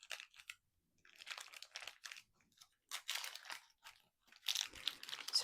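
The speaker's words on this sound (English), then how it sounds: "just gonna take off the parchment paper." Parchment paper crinkles and tears in short, close bursts as it is peeled off a loaf of banana bread, with quiet pauses between the rustling.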